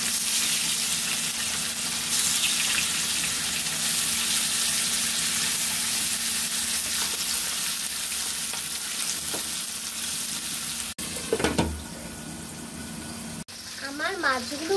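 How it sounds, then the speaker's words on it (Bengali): Karku fish frying in oil in a pan, a steady bright sizzle running continuously, broken near the end by short stirring or handling noises and a snatch of tonal sound. "এখন মাছগুলোকে ভেজে নিব"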